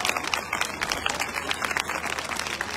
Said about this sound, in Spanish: Un aplauso también, por favor.